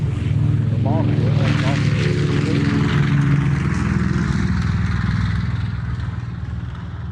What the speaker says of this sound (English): Isn't that a great sound? B-25 Mitchell